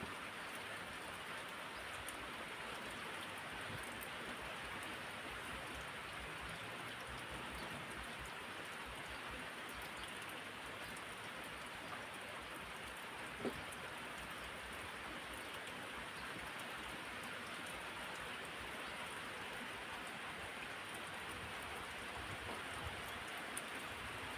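Rain falls steadily on a cold day, a soft, even hiss that stays constant and fairly faint throughout, with one tiny tap partway through and no voices.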